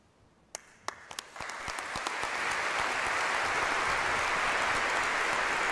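Congregation applauding at an episcopal consecration of bishops-elect Reed and O'Connell under Paul VI's new rite, a few scattered claps quickly swelling into steady, full applause that fills the space.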